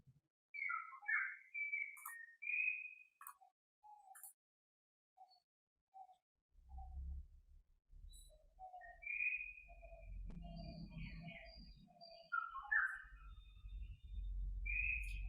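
Birds chirp and whistle in repeated short calls, clear at first, then continuing over a low rumbling background noise that builds up later.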